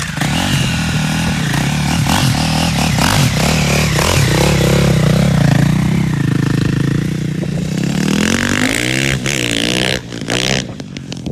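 A racing motorcycle with heavy studded tires revs hard and loud on an ice track during a wheelie, its engine note rising and falling steadily and close, with a rattling shift near the end.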